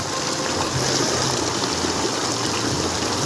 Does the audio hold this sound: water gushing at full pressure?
yes